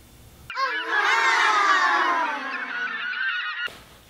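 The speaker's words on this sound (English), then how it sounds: "And that great bird is the seagull." Loud, harsh seagull cries fill a few seconds, a stretched wailing squawk with strained harmonic tone, rising abruptly out of silence and cutting off just as sharply.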